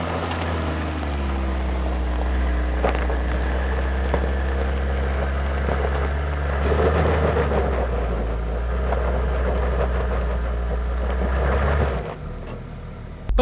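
Vehicle with differential lock engaged, tires spinning while trying to climb: a steady low engine drone with wheel-slip noise and wind buffeting, close and continuous, easing off near the end.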